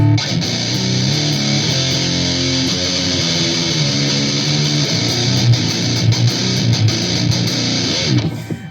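An electric guitar plays through a JOYO Extreme Metal distortion pedal, with heavily saturated sustained chords and a thick, somewhat muddy tone. It plays alone, without voices.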